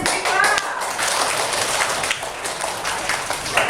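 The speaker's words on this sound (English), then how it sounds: "Give your friends a big clap." Classroom students clap together for their classmates during an English lesson, producing a dense, steady round of applause that fills the whole moment without letup.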